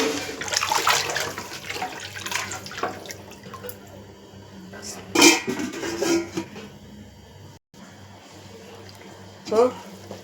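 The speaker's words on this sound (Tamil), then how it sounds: "இப்போ தண்ணி நல்லா கொதித்து வருது." Water bubbling in a cooking pot, brought to a boil before rice goes in for a chickpea biryani. Steady watery churning and splashing with occasional louder bursts, close by, under a person talking.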